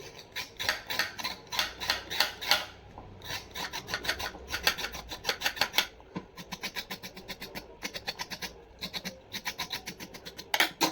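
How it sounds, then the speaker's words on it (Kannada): A carrot being scraped clean in a home kitchen: quick, rhythmic raspy strokes in bursts, close and crisp, with brief pauses between runs of scraping and no talking. "ಕ್ಯಾರೆಟ್ನ ಕ್ಲೀನ್ ಮಾಡ್ಕೊಬೇಕು"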